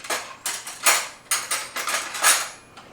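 Eggs being stirred briskly in a bowl for spaghetti carbonara, with a rapid series of sharp clinks and scrapes of a utensil against the bowl, close and fairly loud, with no talking.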